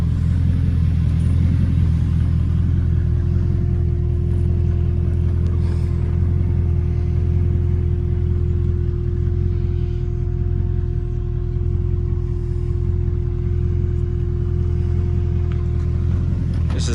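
A 1983 Mercedes-Benz 380SEC, a Euro-spec grey-market import, idles steadily with an exhaust leak from two holes ahead of the muffler, giving a loud, constant low rumble with a faint whine running through it and no voices.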